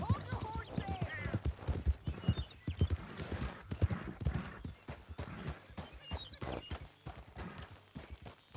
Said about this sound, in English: Hold your horse there!